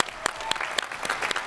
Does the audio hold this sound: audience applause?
yes